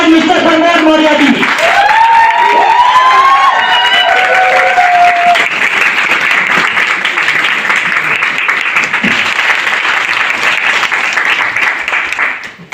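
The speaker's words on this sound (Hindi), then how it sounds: "आप सभी के जोरदार ताली के बीच आए" A seminar audience claps loudly and steadily for a guest speaker coming up, a dense wash of applause that holds for the full stretch. A few cheers and an announcer's voice rise in the first seconds.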